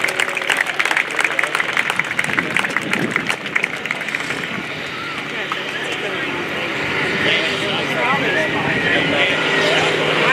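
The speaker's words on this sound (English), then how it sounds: "Give a nice round of applause for the Geico team." Crowd applause for the Geico Skytyper team at the 2017 Melbourne Air & Space Show, a broad outdoor wash of clapping that swells and stays steady to the end, with a public-address voice over it.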